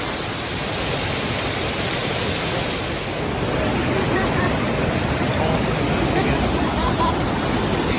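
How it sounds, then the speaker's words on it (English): A waterfall in a gorge on the Four Waterfalls trail in the Brecon Beacons, Fforest Fawr, roaring as a steady, dense broadband rush of falling water, loud and continuous throughout. "off to the third waterfall in the gorge"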